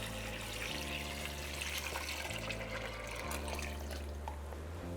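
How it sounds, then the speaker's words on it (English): Two quarts of water poured from a tap into a pot of beans with onion, garlic and jalapeño, a steady close rushing stream whose pitch shifts in steps as the pot fills, with no talk. "And now we're going to cover our beans with 2 quarts of water."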